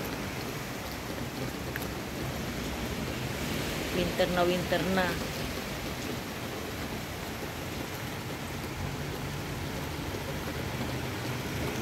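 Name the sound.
heavy rain falling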